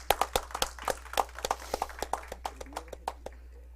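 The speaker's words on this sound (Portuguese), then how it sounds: "eu vou pedir novamente palmas para a doutora Ivone Ferreira Caetano" A small group claps for Dr. Ivone Ferreira Caetano at a legislative event, with sparse, uneven claps that thin out and fade over a few seconds.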